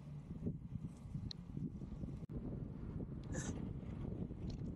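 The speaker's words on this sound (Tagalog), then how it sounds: "malakas yung hangin kasi" Steady, loud wind roaring and buffeting close against the microphone, with a continuous low rumble throughout.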